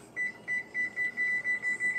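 A small handheld kitchen timer beeps eight times in a quick, even rhythm, close and clear over a quiet room.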